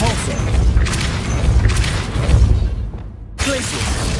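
The Depulso force spell cast in Hogwarts Legacy, a loud dense burst of rumbling, whooshing impact noise that drops out briefly and then surges again.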